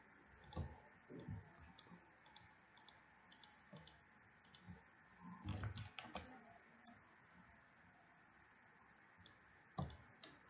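Computer keyboard typing during coding in Visual Studio, faint clusters of quick key clicks in irregular bursts with pauses between, heard close and alone.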